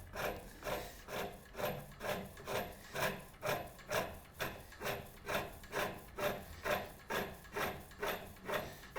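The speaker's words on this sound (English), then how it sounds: "I'll take a nice light pass with my skew." A skew chisel takes a light shaving pass on a wooden tenon for a captain's chair. Rhythmic scraping strokes repeat about twice a second, evenly and close by, with no talking.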